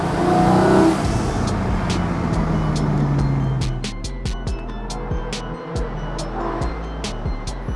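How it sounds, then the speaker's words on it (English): A Porsche 718 Spyder engine, with an 8000 RPM redline, revs hard on twisty roads, rising in pitch and then easing off, loud from close by with sharp clicks and road noise. "this engine just loves to be revved"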